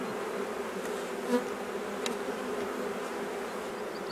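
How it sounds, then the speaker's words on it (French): Agitated honeybees from a queenless colony in spring buzz in a steady, dense drone around the hive, close and continuous, with a few individual bees passing louder near the listener. "Les abeilles sont beaucoup plus nerveuses."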